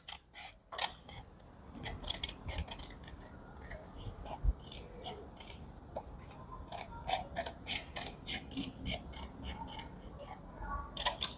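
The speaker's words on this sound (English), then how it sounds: "I glide and I turn my paper as I cut through." Scissors snipping through paper while cutting out a circle, a quick series of sharp crisp snips in irregular bursts with small rustles as the paper turns, close and fairly quiet.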